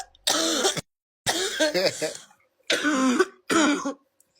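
Four short bursts of coughing, each clearly separated by silence, close and fairly loud, with no talking around them.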